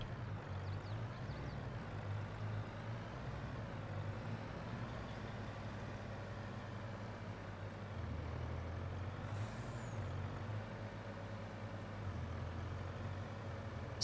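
A Mack logging truck in a video game rumbles steadily at low volume, the engine droning throughout with a brief hiss of air brakes released near the end.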